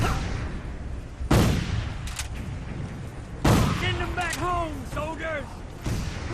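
Colt rifle shots in a Civil War video game set at Fredericksburg, a few sharp cracks spaced seconds apart over battlefield ambience, with someone talking between them.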